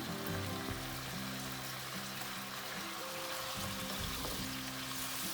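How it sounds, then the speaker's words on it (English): Vegetables sautéing in a pan for a Thai-style coconut shrimp curry, a steady close sizzle with a low hum and occasional utensil knocks throughout. "Saute them well."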